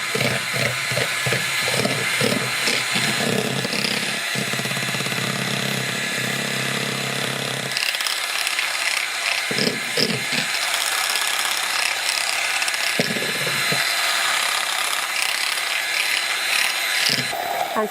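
An electric mixer fitted with a single blade beats eggs for pancake batter, giving a continuous, loud mechanical whir with rattling, uneven bursts and brief changes in tone throughout.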